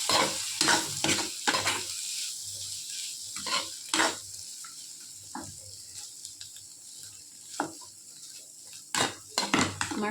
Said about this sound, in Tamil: இதை வந்து லைட்டாக ஃப்ரை பண்ணிக்கலாம்